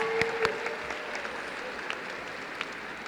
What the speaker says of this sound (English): Graduates, join me in giving yourselves a round of applause.